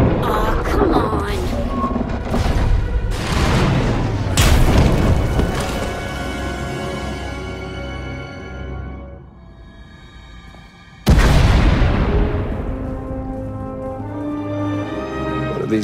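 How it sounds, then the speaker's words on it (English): Several deep, rumbling booms with long decaying tails in the video game Star Wars: The Old Republic, one louder blast hitting suddenly near the end after a quiet stretch. "We heard explosions."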